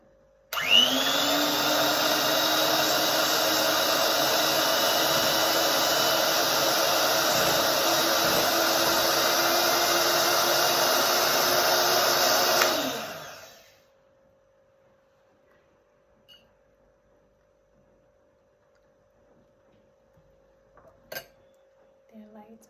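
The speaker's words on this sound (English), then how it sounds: "I'm using an electric mixer to mix them with" Electric mixer whipping egg whites with sugar, a loud steady whirring drone that runs for about twelve seconds and then cuts off abruptly, followed by near silence with a few faint clinks.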